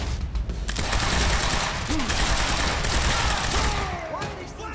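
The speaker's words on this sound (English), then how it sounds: "Why are they still shooting?" Rapid sustained gunfire in the video game Quantum Break, a dense loud fusillade of overlapping shots and bursts running throughout, with sharp cracks and ricochet-like whines near the end.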